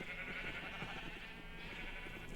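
Video game sheep bleat repeatedly in a pen area, several short overlapping calls near and moderately loud over a steady background hum, with no voices.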